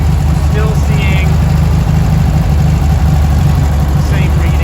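A 1971 Volkswagen Karmann Ghia that had sat for over twenty years idles close by with a steady, even low rumble that continues throughout at high level.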